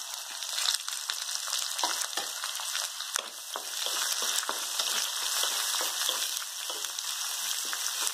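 Curry leaves, garlic and onion frying in oil for a Marathi okra and onion bhaji, a continuous crackling sizzle with scattered pops, close and fairly even throughout without talk.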